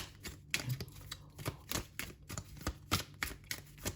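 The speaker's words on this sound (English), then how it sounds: "we're just going to shuffle" Rapid riffling clicks of cards being shuffled, repeated in quick bursts at close range, with no talking.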